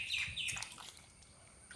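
A few bright bird chirps and tweets sound near the start, then fade into a quiet outdoor background with one faint call later.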